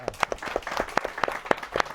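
Audience applause for a teacher at a book presentation, a spread of individual claps rising over a steady bed of clapping, fairly close and moderately loud.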